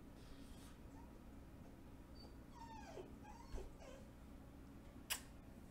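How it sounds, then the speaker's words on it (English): A puppy whimpering and crying, a couple of high, thin whines in a quiet room, faint and brief, followed by a sharp click. "My puppy crying to me because, you know, not paying attention to him over here."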